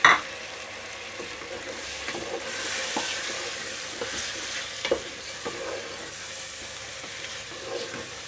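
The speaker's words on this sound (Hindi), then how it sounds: "इसमें हम चिकन डाल देते हैं ताकि ये भी फ्राई हो जाए।" Chicken frying in a pan for a restaurant-style chicken do pyaza, a continuous close hiss and sizzle with occasional soft stirring knocks, steady throughout and no voices.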